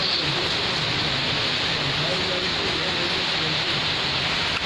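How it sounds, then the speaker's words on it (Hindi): Sudden heavy rain falls outside a city library: a dense, steady hiss of rainfall that stays loud and even throughout, close by. "अचानक से बारिश हुआ,"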